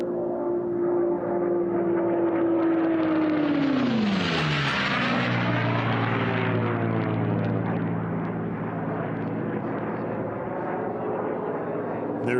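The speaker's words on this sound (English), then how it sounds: "There is our second place aircraft, Tommy, as he makes the turn headed for the" Racing aircraft at the 2023 National Championship Air Races roaring past loud and close, engine pitch dropping sharply as it passes, then a steady drone fading away, no talk.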